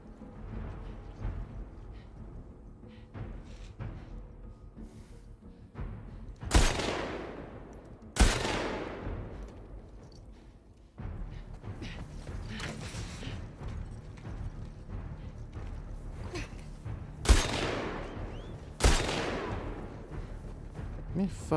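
Rifle shots from a video game crack out in several sharp, loud reports spaced irregularly, each with a decaying tail, over a steady background of gameplay noise.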